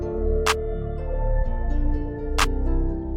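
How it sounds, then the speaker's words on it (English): Standard clap pattern in a guitar beat: two sharp, bright claps land roughly two seconds apart over a sustained guitar and bass loop, with no talking. "Just a standard clap pattern."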